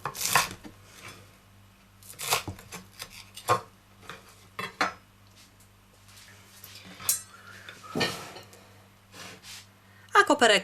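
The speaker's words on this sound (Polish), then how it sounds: "bardzo drobno siekam" A knife taps rapidly on a cutting board as fresh dill is finely chopped, in irregular bursts of clicks close up, with a voice talking over the chopping.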